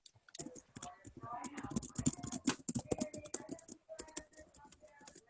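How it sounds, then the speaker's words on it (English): Rapid, irregular clicking of keys being typed on a keyboard, close by, with brief pauses and some faint background sound. "I hear that typing."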